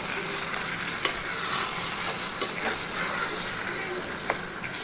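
Tomatoes are stirred into mutton curry with gongura in a claypot, making a continuous soft sizzle broken by a few sharp spoon knocks against the pot.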